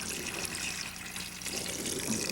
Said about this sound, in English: we'll need to drain off the water